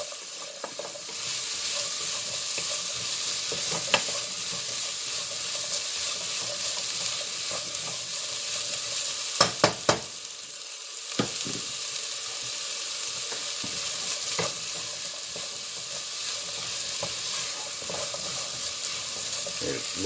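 Orange and green peppers stirred in a hot frying pan give a steady, close sizzle throughout, with occasional spoon scrapes and clacks against the pan and one brief lull midway.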